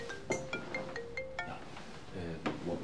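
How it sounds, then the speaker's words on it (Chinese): Mobile phone ringtone chiming in a short melodic electronic pattern of repeated tones, moderately loud indoors, with a person speaking briefly over it. "我接个电话啊。"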